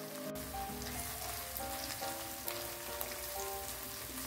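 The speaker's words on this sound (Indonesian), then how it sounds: "Kita campur dulu ya telurnya Bunda, kita aduk." Beaten egg sizzles and crackles in a frying pan as it is stirred, a soft, steady rain-like patter with faint background music.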